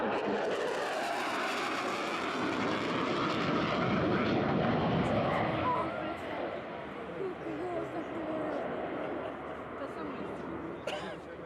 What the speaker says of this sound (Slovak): to letadlo je dostatočne hlučné